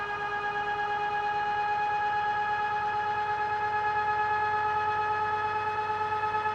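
An e-bike motor of nominal 1000 watts spins at high RPM, giving a steady, loud, high-pitched whine with several sustained tones, close and unbroken throughout.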